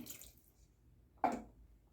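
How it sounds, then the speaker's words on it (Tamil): A short splash of water lands in a pot of Chettinad-style bitter gourd curry, a brief burst in an otherwise quiet scene. "இப்போ கொஞ்சமாக தண்ணி ஊற்றிக்கிறோம்"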